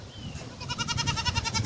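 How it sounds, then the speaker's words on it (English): A goat lets out a wavering, quavering bleat, near and clear, over faint background noise. "What are the goats up to?"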